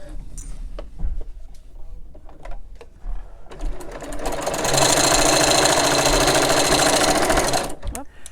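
A sewing machine back stitching a drawstring bag runs in a loud, steady stretch for about four seconds, preceded by lighter handling noises and brief starts, close to the microphone.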